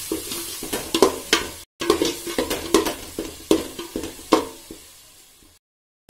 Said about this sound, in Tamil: அப்புறம் நல்லா வதக்குங்க.